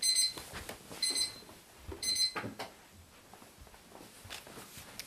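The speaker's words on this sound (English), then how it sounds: "That was my alarm." Alarm clock going off in a student house bedroom: three short, high electronic beep bursts about a second apart, faint against quiet room noise and a few soft thumps or footsteps.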